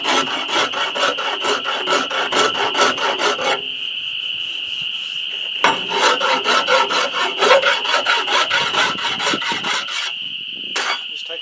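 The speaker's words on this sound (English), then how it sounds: "Because I've got this knot, I'm just going to use my rasp" A rasp files a knot on a hickory self bow in quick, even rhythmic strokes, loud and close, with a short pause midway before the strokes resume.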